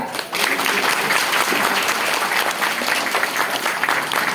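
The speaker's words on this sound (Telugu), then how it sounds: "ముందు ఒకసారి గట్టిగా క్లాప్స్ కొట్టండి" An audience at a temple flagpole installation ceremony claps loudly and continuously, a dense burst of applause that starts suddenly and holds steady to the end.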